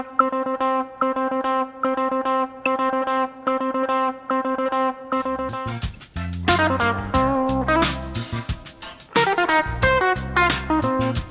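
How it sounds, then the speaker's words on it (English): A funky sextuplet phrase plays the first four notes of each six-note group in a steady, repeating rhythm, alone at first, then joined by a fuller, louder band texture about halfway through. "another common phrasing pattern you'll hear using these sextuplets is to hit the first four of the six note grouping"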